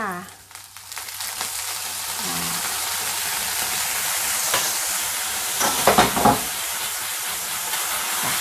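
Tofu coated in mushroom soy sauce stir-fries in a pan with a steady, close sizzle and hiss, steam and spatula scrapes swelling near the end; no talking.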